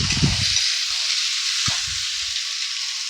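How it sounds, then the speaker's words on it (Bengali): Mashed boiled potato frying in a pan with capsicum, a loud steady sizzle with a single stirring scrape and a few low knocks near the start, close and without talk. "ম্যাশ করা আলুটা দিয়ে দিলাম"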